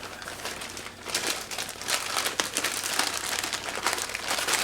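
A plastic Ziploc bag crinkles and rustles continuously while it is handled up close, with steady crackling and occasional louder crumples, used to store the separated pieces of a leather dog hood.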